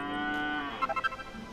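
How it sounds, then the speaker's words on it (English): A cow on an island in the video game Dragon Quest VIII lets out a long low moo that fades into a short run of chiming game tones, moderately loud and alone without talk. "Ooh, cow. There's a lot of cows on this island."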